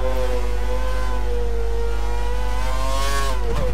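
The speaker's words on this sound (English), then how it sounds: "It's just good when you hear your engine is spitting at you, like a Spitfire" A Formula 1 race car engine in the video game F1 2013 at Silverstone holds a steady high-pitched whine that sweeps slightly as gears shift, ending with a brief crackle near the end.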